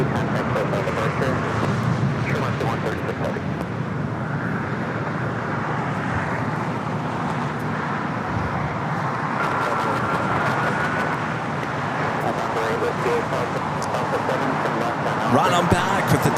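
An airliner departs LAX for London Heathrow, its broad, steady engine roar filling the scene throughout with little change, loud and continuous, and talk mixed in underneath.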